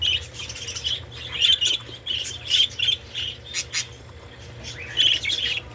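Parakeets in a breeding cage give repeated sharp squawks and chirps in short bursts, close by and fairly loud over a low background hum.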